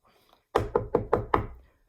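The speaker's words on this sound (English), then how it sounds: "knocked on the door early the next morning" Five firm knocks on a wooden door in an even, quick rhythm, close and clear against near silence.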